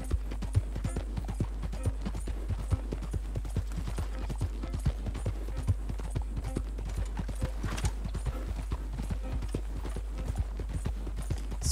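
A horse gallops in Red Dead Redemption 2, its hooves beating a fast, steady clip-clop rhythm close by for the whole stretch, with no talk over it.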